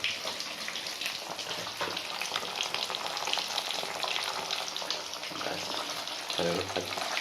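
Koi fish frying in deep oil in a wok, a dense continuous bubbling sizzle close up, with occasional stirring and a brief faint voice underneath.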